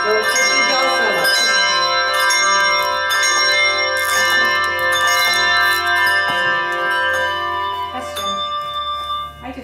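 Handbells ring out in a bell class, a steady sequence of bright, sustained tones struck in counted rhythm, overlapping and ringing on throughout, with a slight fade near the end.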